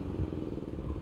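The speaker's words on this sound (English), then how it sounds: "Sorry that the background noise is" Lawn care machinery drones steadily in the background, a low, continuous engine rumble with slight clatter and no voices over it.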